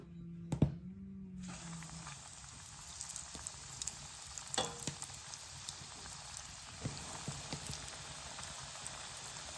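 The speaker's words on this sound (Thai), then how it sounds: "เราก็จะเอาลงกระทะเลยกระทะกระร้อนแล้วนะจ๊ะ" Steady crackling sizzle of crispy salmon milt frying in a hot pan, with a few sharper pops and spits over a continuous hiss; a brief tone sounds near the start.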